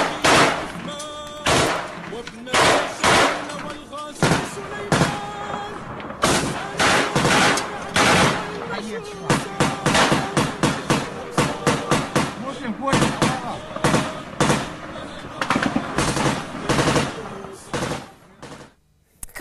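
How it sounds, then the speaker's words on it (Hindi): Heavy gunfire rattles through residential areas of Mariupol in wartime, loud bursts of rapid automatic shots and single cracks in quick succession, close and sharp, with a voice talking in between. "रिहायशी इलाकों में भारी फायरिंग ये कर रहे हैं"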